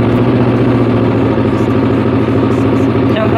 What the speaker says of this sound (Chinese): 那是不是通常我们会去冷车的时候发动这台车，看看说引擎是不是顺的等等